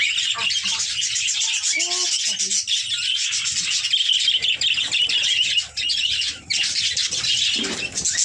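A small pet bird gives a few quick chirps close by, over a constant high hiss and some soft rustling.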